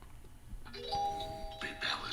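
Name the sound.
Nothing Phone 3 notification bell sound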